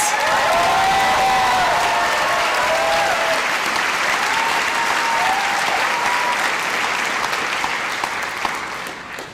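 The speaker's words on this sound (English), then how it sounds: "Let's give ourselves an extremely well-earned round of applause." A large graduation audience at the NYU Wagner 2025 convocation gives a loud, sustained round of applause, with crowd cheers rising over the dense clapping before it slowly tapers off.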